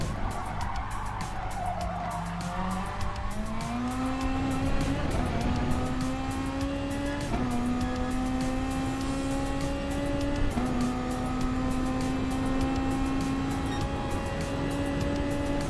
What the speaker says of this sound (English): The car just gets so upset when you take that particular rumble strip like that